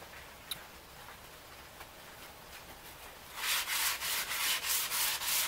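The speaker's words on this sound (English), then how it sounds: "Here I am sanding with the 440." Steady scratchy rubbing of 440-grit sandpaper by hand on the topsides of a cedar strip boat, faint at first, then louder rhythmic back-and-forth strokes in the second half.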